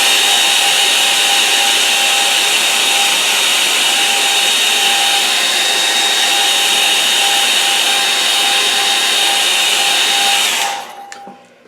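A hair dryer blows over a watercolour painting of a marshy shore, a loud, steady whirring hiss with a constant motor tone running unbroken for about ten seconds before it switches off and winds down.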